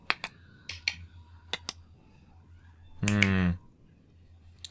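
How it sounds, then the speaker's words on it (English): Sharp, sparse clicks, likely from a computer mouse, come in a loose irregular scatter during an online Cards Against Humanity game, near and fairly faint, with a short burst of voice partway through. "I hear you clicking."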